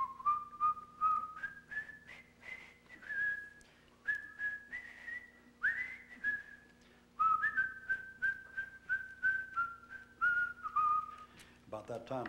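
A clear, melodic whistle plays a tune in short phrases of sustained, sliding notes, loud and close, with brief gaps between phrases and a short noisy sound at the very end.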